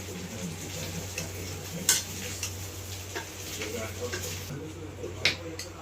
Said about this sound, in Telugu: ముక్కలల్లా మసాలా వేసుకున్నా. కలుపుతున్నా, బాగా కలుపుకోవాలి.